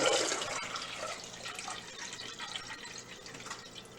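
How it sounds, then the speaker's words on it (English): Water runs steadily into a kitchen sink, a broad splashing hiss that starts strongest and eases slightly over a few seconds, with no voices. "we're going to add some water to this sink here."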